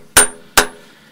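Two sharp hammer blows, rounded face striking a thick knife blank to counter-bend it, each a bright metallic clang with a short ringing decay, spaced about half a second apart.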